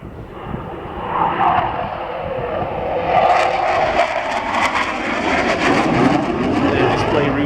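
Aircraft flying past at an airshow, a steady engine roar that builds and stays loud for several seconds, with a broad rushing wash and no talk over it.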